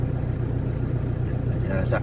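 Low steady engine rumble of a car heard from inside the cabin, close and continuous, with a voice talking over it.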